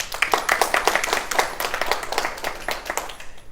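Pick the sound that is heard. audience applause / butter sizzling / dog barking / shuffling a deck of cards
audience applause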